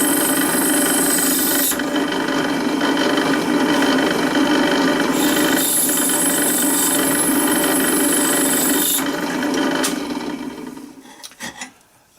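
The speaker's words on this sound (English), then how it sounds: "Let's drill this one through here now." A loud, continuous grinding whir of a drill boring through a metal side plate for a model railway carriage, holding steady for about ten seconds before winding down into a few clunks.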